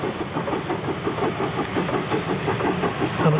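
Steam locomotive King Edward I, recently restored to main-line running, working near Taunton Station in Somerset: a steady, loud mechanical chuffing and hiss with a rhythmic beat, continuous and close throughout, with no talking.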